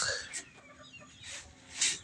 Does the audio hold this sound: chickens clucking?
yes